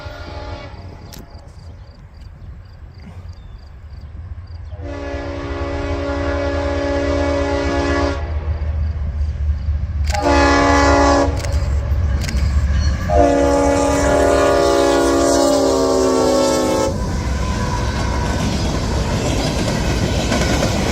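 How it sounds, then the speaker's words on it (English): A freight locomotive's RS-5T air horn blasts several times, long chords over the heavy rumble and clatter of a passing train, loud and close. "it has arguably the best horn ever made on it, the RS-5T"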